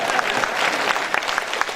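A crowd at the 83rd birthday celebration for lyricist Vaali applauds loudly and continuously, with individual sharp claps standing out within the dense, close wash of clapping.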